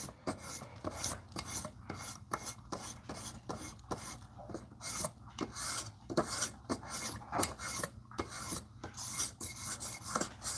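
A knife is drawn across a Work Sharp sharpener in repeated soft rasping strokes, a faint close scraping rhythm that continues steadily without talk.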